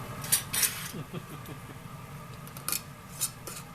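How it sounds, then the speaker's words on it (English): A metal lid screwed tight onto a glass canning jar of rendered beef fat, a few close scraping, clicking metallic turns in quick bursts over a quiet room background, with no speech. "And put the lid on tight, and then put aside."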